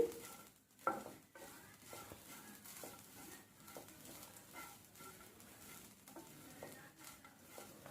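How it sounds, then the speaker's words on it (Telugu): Freshly grated coconut is stirred steadily while dry-roasting in a pan, a soft, continuous scraping and rustling with faint sizzle, quiet and close with no talking. "ఇలా మనం కలుపుతూనే ఉండాలన్నమాట దగ్గర నుంచోని లేదనుకో మాడిపోయినట్టు అయిపోతుంది"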